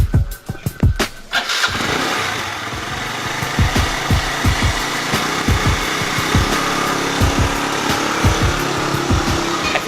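A motorbike engine runs steadily nearby, with a few sharp knocks and thumps at the start and faint voices in the background.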